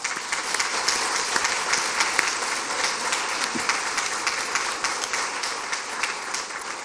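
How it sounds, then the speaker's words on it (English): A gala audience applauds at the 2022 Sunbeam Award event, producing dense, sustained clapping that holds steady and loud throughout with no voices over it. "I think we owe them a round of applause."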